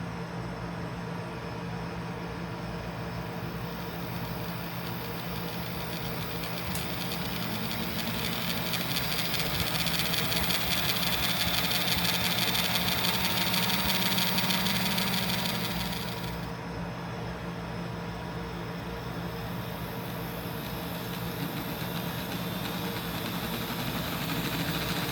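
N scale GP40 model locomotive motor straining during a pull test, a steady buzzing whine with broad noise that rises and intensifies midway before easing off, continuous and without speech.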